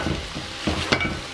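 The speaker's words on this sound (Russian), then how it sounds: "Перемешиваю." Onions and vegetables sizzle in a pot of oil for bozbash while a spoon stirs them, giving a steady fry with a few sharper scraping strokes, close and alone without voices.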